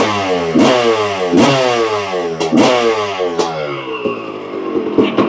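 A 1993 Yamaha WR265 motorcycle with a big-bore engine, warmed up, revs hard in four or five sharp throttle blips. Each rip climbs and falls back to a lumpy idle, loud and close, with no talking.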